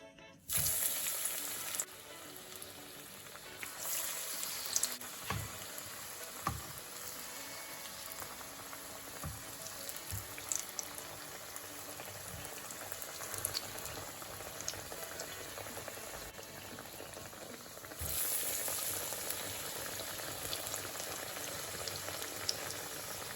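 Falafel balls frying in a pot of hot oil, a continuous bubbling sizzle heard close up and alone, with a few soft knocks scattered through it.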